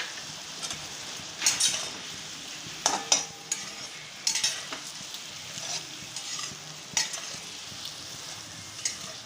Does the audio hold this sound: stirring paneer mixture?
yes